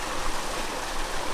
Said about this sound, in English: At Beechworth Gorge, I'm just showing these guys the natural water slide.